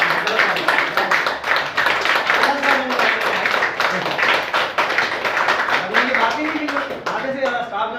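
Audience clapping in a dense rhythmic patter throughout while someone speaks Hindi over it.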